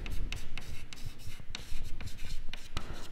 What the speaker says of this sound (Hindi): तो मैं लिखता हूँ यहाँ पे